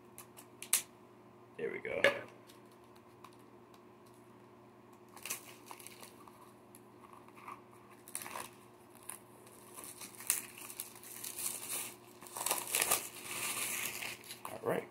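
Someone carefully opens the packaging of a Zelda: Tears of the Kingdom collector's edition, with close crinkling, tearing and rustling in scattered bursts that grow busier toward the end, and a voice speaking briefly.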